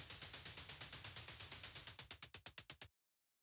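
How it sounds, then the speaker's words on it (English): White-noise bursts from a synthesizer play as a rapid steady pulse of short hissing hits, and the envelope gets shorter until the bursts turn into crisp separate ticks that stop abruptly. "I'll switch this to some white noise and shorten the envelope"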